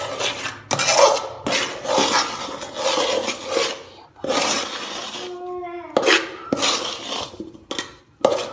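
Repeated scraping strokes of a spoon working thick idiyappam flour dough in boiling water around a pot, irregular and close, with a brief metallic ring midway.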